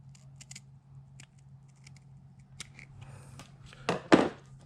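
Scissors cutting a vinyl wheel stripe along a marked line, a few faint isolated snips early on followed by two louder, sharper cuts near the end in a quiet room.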